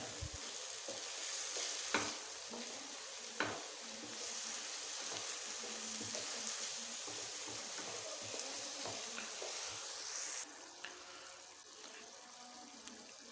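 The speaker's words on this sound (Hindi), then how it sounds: "मसाले को हमने अच्छी तरह से पकाना है ताकि मसाला हमारा अच्छा बने।" A spoon stirs masala with black pepper frying in a pan, a faint continuous sizzle marked by occasional scrapes and taps, with no one speaking.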